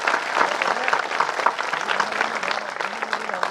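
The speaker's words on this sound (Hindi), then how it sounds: "एक बार पूरा सदन गाय माता के सम्मान में तालियों का गुंजायमान करे आसमान में" Audience applause filling a hall at a Hindi poets' gathering (kavi sammelan), dense continuous clapping from a large crowd with a faint voice underneath.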